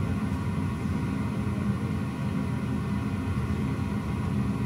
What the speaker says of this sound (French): de l'autre côté, c'est le simulateur à côté.